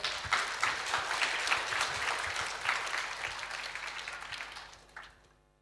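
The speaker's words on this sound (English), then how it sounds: "Please give our mass applause." Audience applause greets a guest lecturer being called to the stage at a university lecture event, a dense burst of clapping that holds steady for several seconds before tapering off at the end.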